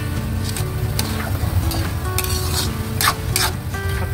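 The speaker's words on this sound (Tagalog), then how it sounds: "Ayan, haluin lang natin guys." Sautéed bottle gourd with fish balls sizzling in a hot pan as a utensil stirs it, with steady frying hiss and scraping strokes close up, no voices.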